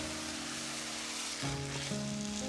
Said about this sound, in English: Now we're going to add in our white wine.